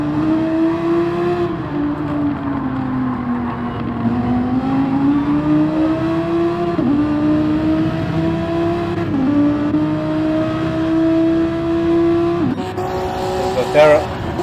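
Super GT race cars on their final lap in a racing video game, engines droning steadily with rising and falling gear-shift pitch throughout, loud and continuous.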